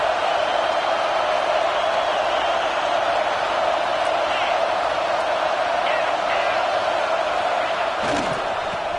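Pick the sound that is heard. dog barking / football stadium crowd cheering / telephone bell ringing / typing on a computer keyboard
football stadium crowd cheering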